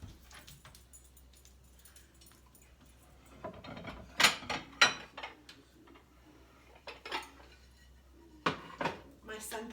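Dishes and pots clatter as they are handled and put away in a home kitchen, scattered sharp clinks and clanks in short bursts, with a dog whimpering and a voice talking in the background.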